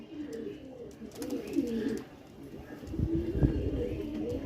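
Pakistani teddy pigeons coo softly and repeatedly close by, low throaty calls in overlapping bursts against faint background noise.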